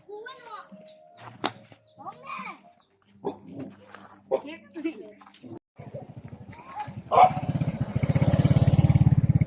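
A dog barks a few times amid children's chatter and shouts outdoors in a remote Laotian village, followed by a rumbling engine that grows louder at the end.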